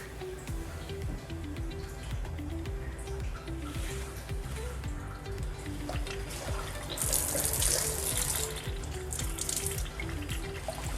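Water runs steadily from a Kangen water ionizer machine into a container, a continuous faucet-like stream with a low mechanical hum beneath and the flow growing brighter toward the end.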